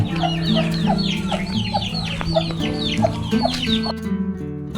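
Chickens cluck repeatedly and close by in a rhythmic chorus of short calls around a rural house, with a faint crow-like call mixed in.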